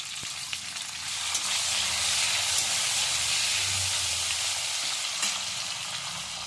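Chopped tomato goes into a pan of fried onion and spices, giving a loud, continuous sizzle and hiss of hot oil with a few spatula clicks and stirring scrapes, no talking.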